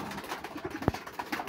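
A female pigeon at a seller's place gives a brief, low coo with a sharp flutter or bump in the middle. No voices are heard.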